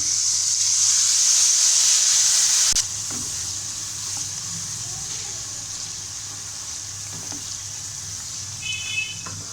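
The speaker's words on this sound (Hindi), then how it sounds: "हल्का सा पानी का छट्टा लगाएंगे।" Haleem masala in a hot pan sizzles loudly as water is sprinkled in, a bright hiss that drops after a few seconds to a softer, steady frying crackle, with a little quiet talk.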